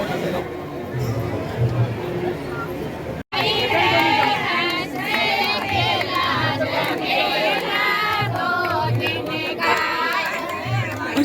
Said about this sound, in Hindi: हजारों की भीड़ यहाँ पर है।